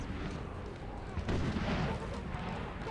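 Artillery cannon fire in the Napoleonic battle game Napoleon Total War, Waterloo assault on La Haye Sainte, a dense rumbling wash of distant booms with a heavier burst midway, continuous over battle ambience.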